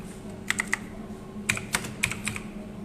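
Text is typed on a computer keyboard in a few short bursts of crisp, close key clicks separated by brief pauses in a quiet room.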